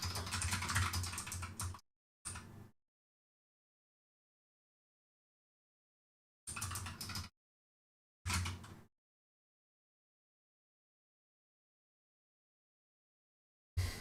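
Computer keyboard typing while coding game levels in Lua: a few short, close bursts of clicking keys separated by long stretches of silence.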